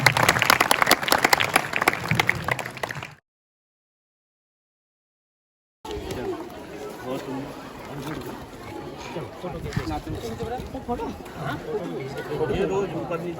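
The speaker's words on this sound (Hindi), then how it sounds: "एक बार तालियों के साथ" Audience applause at a Bal Sakha Manch children's event: a dense burst of clapping for about three seconds, then sudden silence, followed by a murmur of chatter and voices talking.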